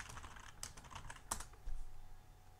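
Soft, quick clicking of a computer keyboard while a chatbot is set up, a steady patter of keystrokes with a couple of sharper taps, close and alone with no voices.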